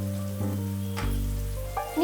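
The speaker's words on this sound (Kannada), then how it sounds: "ಈಗ ಈರುಳ್ಳಿ ಹಾಕ್ತಾ ಇದ್ದೀನಪ್ಪ." Chopped onion frying in a pan for pepper chicken gives a soft, steady sizzle under prominent background music, with a brief stirring clatter.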